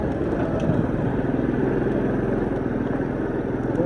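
A motorbike rides into an Akha hill-tribe village in Oudomxay, Laos, its steady mid-pitched engine droning continuously and close throughout, with road clatter and wind noise mixed in.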